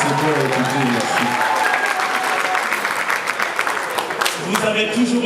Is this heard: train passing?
no